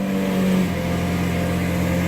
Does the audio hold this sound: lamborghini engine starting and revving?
yes